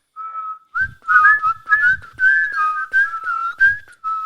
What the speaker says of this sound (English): I can whistle like tunes.